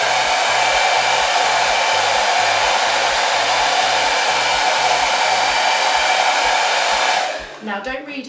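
A hair dryer blows steadily at close range while drying hair, a loud continuous whoosh that cuts off near the end and leaves a brief fluttering wind-down.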